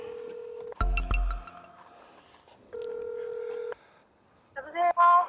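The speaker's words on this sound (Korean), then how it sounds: "누구에게 전화를 하는 걸까요?" A telephone dials out with a series of beeping keypad tones, then a long ring-back tone follows. A brief burst of speech-like sound closes it.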